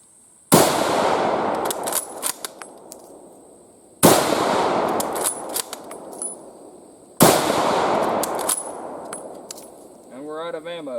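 A Remington M1903 A3 Springfield rifle fires three loud, close single shots several seconds apart, each a sharp crack with a long decaying roar, followed by metallic clinks of the bolt being worked between shots.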